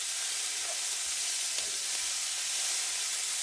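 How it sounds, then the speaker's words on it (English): Vegetables and minced garlic sauté in a pan with fat for low-carb cornbread stuffing, giving a steady, even hiss and sizzle throughout. No voices are heard. "we're just going to saute our vegetables"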